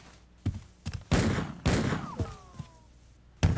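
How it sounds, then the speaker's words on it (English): A gunshot rings out at one in the morning in an apartment building, part of a run of sharp bangs and thuds. A brief whistling tone trails after one of them. "that a gunshot? At 1 in the morning?"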